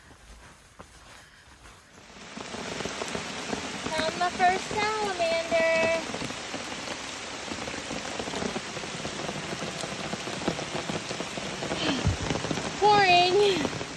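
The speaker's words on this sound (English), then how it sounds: "Pouring." Heavy rain pours down steadily on a forest trail along the flooded Chattooga River, a dense hiss that starts abruptly after about two seconds and continues throughout, with a person talking over it.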